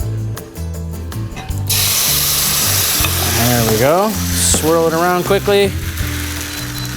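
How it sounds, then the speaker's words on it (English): Crepe batter sizzles loudly in a hot pan, a steady bright frying hiss with scraping stirs, while a person speaks over it. "Should sizzle, savory sizzling crepes."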